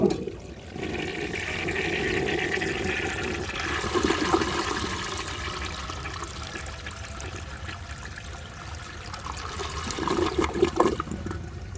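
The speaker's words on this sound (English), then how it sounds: "Poland Ball asks if I can flush 15 feet of toilet paper" A 1930 Eljer Sanus toilet flushes a long wad of toilet paper, a steady rushing swirl of water that runs for several seconds before tapering into trickling refill.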